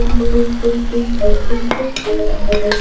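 Prawns and bitter beans in sambal with kaffir lime leaf and tomato being stirred and scraped in a hot sizzling pan, steady frying hiss with spatula knocks, while soft music plays underneath.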